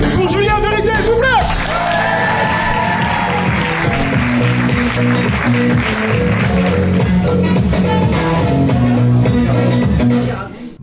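Audience at a comedy show bursts into sustained applause and clapping with scattered whoops and shouts, loud and continuous for about ten seconds while a voice talks over the crowd.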